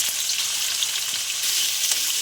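Chopped onion frying in hot oil with cardamom, cinnamon and cloves, a bright, continuous sizzle close by with faint stirring scrapes through it.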